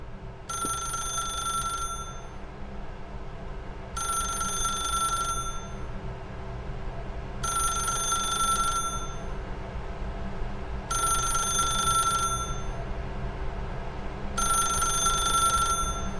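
A telephone in The Stanley Parable rings with a bright electronic trill in five evenly spaced bursts, each about a second and a half long, over a low steady background hum.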